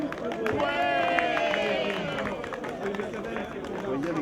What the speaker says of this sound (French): ça s'applaudit bien fort, s'il vous plaît